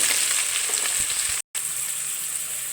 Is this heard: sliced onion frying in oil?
yes